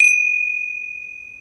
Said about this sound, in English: I'm going to open and close the puja with a gong.